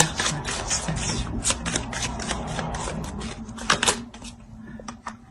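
Tarot cards being shuffled and laid down: a steady run of crisp riffling card snaps and flicks, close and fairly loud, with a few sharper slaps as cards land, no speech.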